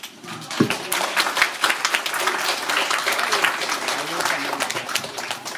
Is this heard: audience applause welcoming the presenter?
yes